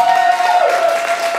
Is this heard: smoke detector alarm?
no